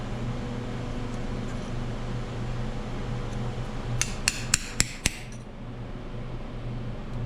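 Hammer striking a punch into metal while restoring a J.I. Case VAC tractor: five quick, hard, ringing metallic blows in a short burst, over a steady low background hum.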